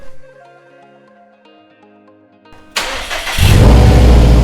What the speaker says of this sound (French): je mets le véhicule en route